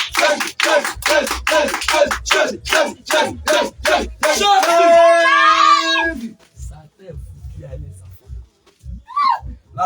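A congregation at a night healing prayer service claps in a brisk rhythmic burst, then breaks into loud sustained acclamation and ululating cries before fading into scattered voices.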